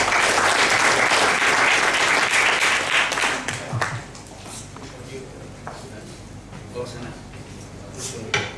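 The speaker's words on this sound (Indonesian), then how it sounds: "kita beri aplaus dulu terhadap Buya Syafi'i" An audience at a memorial lecture applauds Buya Syafi'i, dense loud clapping that fills the room at first, then thins out into scattered claps and faint talk.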